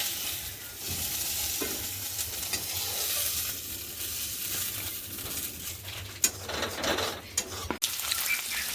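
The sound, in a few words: potatoes frying with cumin and green chilli in fish pan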